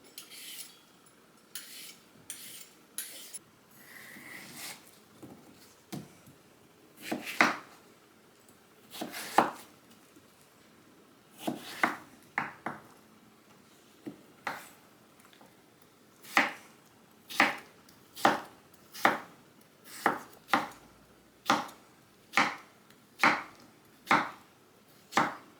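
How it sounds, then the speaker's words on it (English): Peeled cucumber being chopped into bite-sized pieces with a knife on a cutting board, sharp close knocks that start scattered and irregular, then settle into a steady even rhythm of single cuts. "next we're gonna peel and chop our cucumber"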